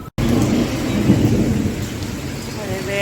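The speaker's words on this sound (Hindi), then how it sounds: "अभी बारिश आ रही है।" Steady rain falls with a low rumbling thunder roll near Devprayag, in the Himalayan hills of Uttarakhand, India, a dense continuous wash of sound heard alone after a brief cut at the start.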